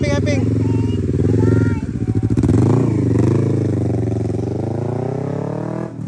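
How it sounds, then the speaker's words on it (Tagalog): A Yamaha Sniper underbone motorcycle passes during a rally in Lugait, Misamis Oriental, its engine note rising and falling with a strong buzzing whine that shifts pitch as it goes by close. "Sniper underbone. Ika duhang underbone nga niagi diri."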